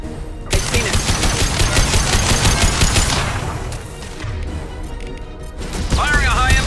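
Rapid bursts of gunfire from the video game Mass Effect 2, dense repeated shots and impacts filling the first half, then easing into lower rumbling combat noise with a few sharp effects near the end.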